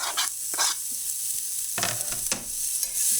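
Garlic and onion sizzle and fry in a pan with bursts of stirring that come and go, with no one talking.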